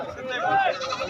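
A goat at a goat market lets out a single wavering bleat amid busy background voices and crowd noise.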